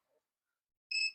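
A multimeter in continuity mode gives a short, faint high electronic beep near the end, probing a shorted capacitor on a dead Huawei MateBook 14 laptop's power rail; the rest is near silence.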